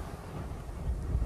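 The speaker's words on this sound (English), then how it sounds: "it's probably gusting 40, 50 miles an hour out there" Strong gusting wind buffets the microphone outdoors on a drive toward Alaska, producing a brief, loud, rumbling roar with no voices.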